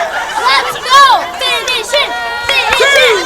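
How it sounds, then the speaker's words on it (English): A wrestling event crowd at a Halloween show chants and shouts loudly in support of a wrestler, with overlapping voices rising and falling in waves across the clip. "Crowd now chanting as loud as they can in support for Uriah"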